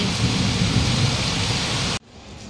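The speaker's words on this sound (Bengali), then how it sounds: "কি মেঘ ডাকছে" Heavy rain pours down loudly and steadily with a deep rumble of thunder beneath it, then cuts off abruptly near the end, leaving only a faint background hiss.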